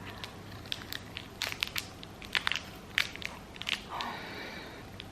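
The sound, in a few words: chewing a dry crunchy snack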